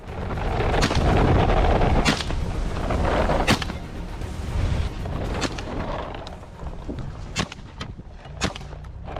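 Shotgun blasts during a wild goose hunt, several loud sharp booms spaced irregularly over steady background rumble, with fainter shots further off.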